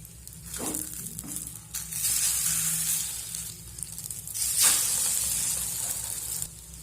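Steady sizzling of egg paratha batter frying in a hot pan, a continuous hiss with a few brief louder bursts, close up and without talk.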